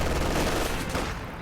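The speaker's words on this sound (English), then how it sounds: "And now he's dropping anti-infantry strafe into the base for some reason" Dense rattling bursts of strafing gunfire from an aircraft in a World War II strategy video game, a loud, continuous barrage of overlapping shots with no gaps, close up and without talk.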